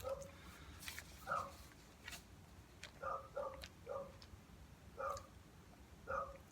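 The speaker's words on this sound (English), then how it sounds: "now the dogs start barking" Neighbours' dogs bark in a scattered series of about eight single and paired barks, faint and distant, set against quiet room noise with occasional ticks.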